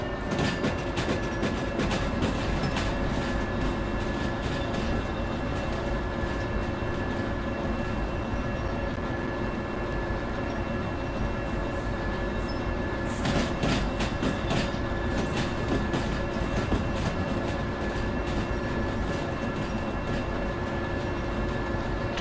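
Freight train hauled by locomotives in the Derail Valley railway simulation game, a continuous rolling rumble with rhythmic clickety-clack of wheels over rail joints and bursts of metallic clatter midway, no voices.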